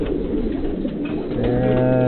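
A young red laced bald head roller pigeon coos in a steady, low, throaty murmur, close and fairly loud, with a single brief spoken word over it.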